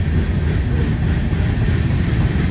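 A long BNSF freight train rumbles past close by, heading eastbound up the mountain at Skykomish, Washington, a steady heavy roar with low clattering wheels that stays loud throughout.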